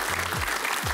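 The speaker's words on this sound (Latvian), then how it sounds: "aplausi pašiem sev" Audience applause at a Latvian school science competition event, a short burst of dense clapping filling the whole second over a low rumbling background.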